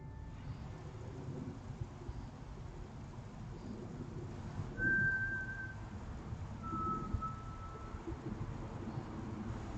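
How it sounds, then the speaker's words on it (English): An eerie whistle rings out on an outdoor trail camera: two brief, thin tonal notes, the second slightly lower and longer, over a steady bed of wind and low rumble. "First, an eerie whistle rings out"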